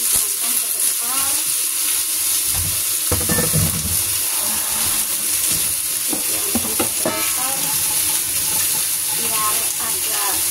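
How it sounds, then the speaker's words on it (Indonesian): Chicken stir-fried in a pan for an oyster sauce dish, with a constant sizzle, intermittent scraping and stirring clatter, and occasional bubbling, close and fairly loud. "Habis itu kita tumis gitu teman-teman."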